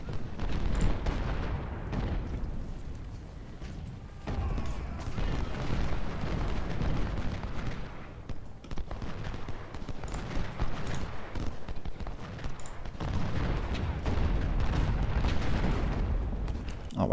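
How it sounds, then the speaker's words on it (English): Gunfire and artillery in the Civil War strategy game Ultimate General: Civil War, at the Battle of Malvern Hill, make a dense, continuous din of booms and crackling volleys that swell and ebb. "Fire on Anderson instead then"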